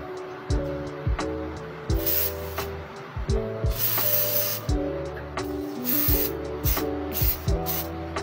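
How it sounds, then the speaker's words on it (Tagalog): Hairspray from an aerosol can being sprayed onto hair, several loud hissing bursts of varying length repeated close up, with soft handling noises and a steady tonal hum underneath. "Then saka niyo po siya i-spray sa inyong buhok."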